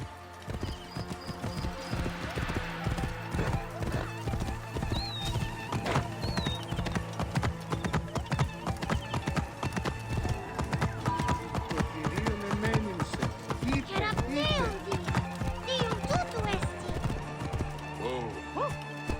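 Horse hooves clip-clop steadily in Assassin's Creed Origins on PS4, a continuous rhythmic trot with occasional neighs and whinnies, mixed with game ambience and voices talking over it.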